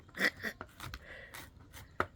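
A dull knife taps a cutting board in a few quick, irregular chops at a campsite, close and fairly quiet.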